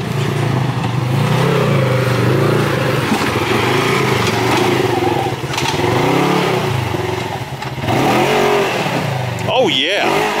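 A Polaris RZR RS1 side-by-side revs hard on a steep off-road climb, its engine rising and falling in repeated surges, loud and close, with voices over the top near the end.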